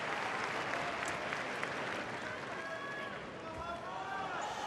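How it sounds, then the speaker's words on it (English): A tennis crowd at the 2022 Laver Cup applauds after a doubles game with Federer and Nadal against Sock and Tiafoe. The clapping is a dense, sustained wash of sound, steady and fairly distant throughout. "they are still getting some applause"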